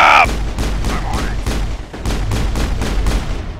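Gunfire in the Mass Effect video game: a rapid, steady volley of close, loud shots firing about every third of a second in a sustained burst, with a brief voice at the start.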